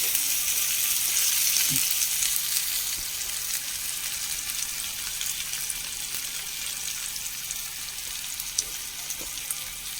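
Masala-coated fish fries in a pan with a steady, bright sizzle that runs close and continuous and eases slightly after the first few seconds.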